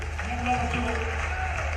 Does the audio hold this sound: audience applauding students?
yes